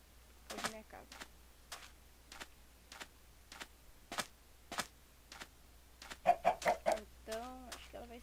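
Chickens in the Minecraft video game cluck in a series of short, clipped bursts, with a quick run of several louder clucks near the end, heard at close range over a quiet background.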